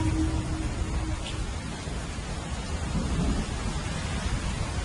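Thunderstorm over an Amazon forest village: steady heavy rain hiss fills the clip, with low rolling thunder rumbling underneath, fairly loud and continuous without voices.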